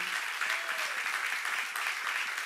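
Congregation clapping together in a church during a sermon, a brief, fairly soft burst of many hands with no pause, lightly reverberant.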